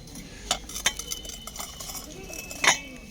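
Light porcelain plates clink and tap against each other several times, irregular and close, with a brighter ring near the end.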